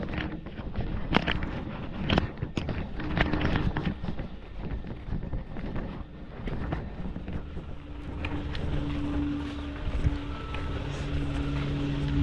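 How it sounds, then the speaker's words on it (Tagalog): A motorcycle rides along at a steady pace, its low engine hum mixed with heavy wind rush on the microphone and occasional bumps, loud and continuous, with a steadier tone settling in toward the end. "Drive muna tayo motor guys."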